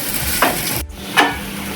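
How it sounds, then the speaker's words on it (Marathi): Sabudana khichdi gets stirred and mixed in a hot pan, two distinct scraping sweeps of a spoon over a soft continuous sizzle, close and clear with no voices. "पूर्णपणे मिक्स करून घ्यायचे."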